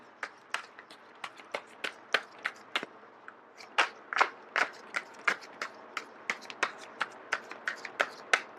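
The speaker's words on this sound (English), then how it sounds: "I am going to shuffle until the first card drops out" Tarot cards shuffled in quick riffling bursts, a steady series of sharp crisp flicks close by, with no talking.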